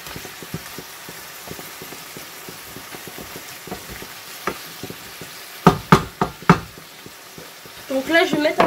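Frozen spinach stirred and sizzling in a frying pan: soft scraping and crackling at first, then a run of sharp utensil knocks against the pan, ending in louder, bubbling sizzle.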